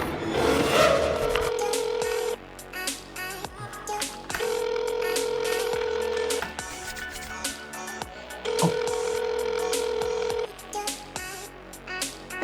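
A phone rings in repeated long electronic tone bursts separated by gaps, loud and close over a busy background of clicks and other noise, with no talking.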